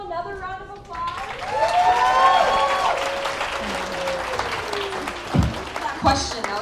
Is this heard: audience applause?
yes